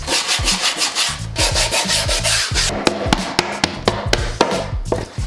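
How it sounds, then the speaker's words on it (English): Rapid rough rubbing strokes come from sanding the edge of grip tape on a new skateboard. The strokes run close and loud with a steady back-and-forth rhythm, then turn into sharper, more spaced scrapes with no talk. "go and sand the entire edge of the grip tape to keep it from A, peeling"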